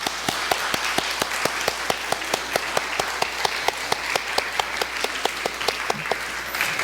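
A congregation at a Sunday Baptist church service claps together in an even, rhythmic beat, each sharp clap standing out over a continuous bed of scattered applause.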